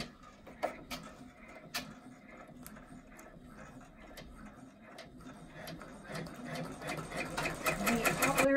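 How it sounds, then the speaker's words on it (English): An embroidery machine stitches a mouse pad design in the hoop, giving a steady rapid mechanical needle chatter with periodic sharp clicks that grows louder and busier toward the end, with no talking. "It's going to stitch this in place, and then it's going to stitch the green grass."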